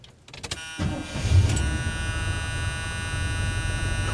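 A 1981 Chevy Silverado truck with a Quadrajet carburetor cranks briefly and catches, then settles into a steady, loud idle with a constant drone and no talking.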